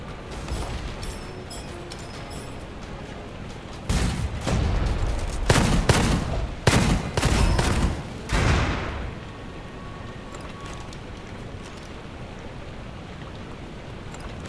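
A rocket launcher fires again and again in the shooter game Gunfire Reborn, sending out loud bursts of booming blasts and crackling explosions for several seconds between quieter stretches of game ambience.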